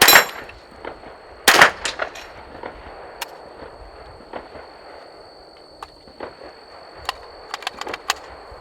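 Rimfire rounds striking an Action Target steel dueling tree outdoors, a few sharp shots with ringing metallic clangs early on, then scattered lighter pings and taps spaced irregularly, with a faint steady tone lingering after.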